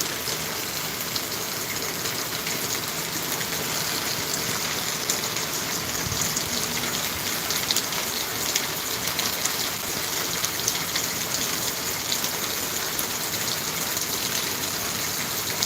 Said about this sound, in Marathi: तुमच्याकडे आहे का मंडळी पाऊस